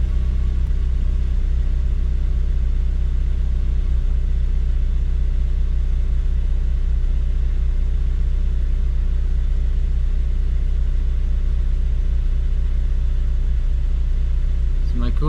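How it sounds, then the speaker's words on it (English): A K-swapped Honda Civic EM2 with a Hybrid Racing cold air intake idles after starting, a loud, steady low engine rumble filling the clip without pause. "I just started my car and immediately I noticed the huge difference."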